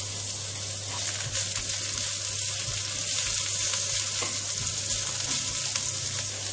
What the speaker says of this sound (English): Garlic is brown. I'm putting in the ginger.